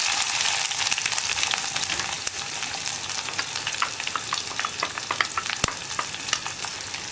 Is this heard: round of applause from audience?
no